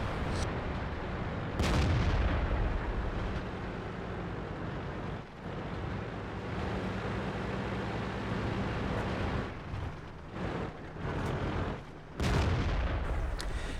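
Tank cannon fire in World of Tanks on the Erlenberg map, with a German VK 16.02 under fire from a Panther's 8.8 gun: heavy booming shots over a constant rumbling engine and battlefield drone, with several loud, distinct blasts.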